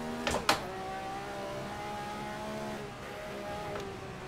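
A Ferrari 312 engine over-revving in a racing video game at Zandvoort, held at a steady high-pitched whine after a couple of brief sharp clicks, moderately faint.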